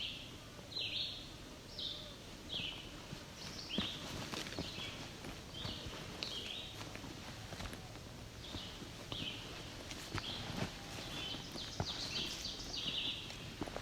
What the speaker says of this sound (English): That's the ovenbird again.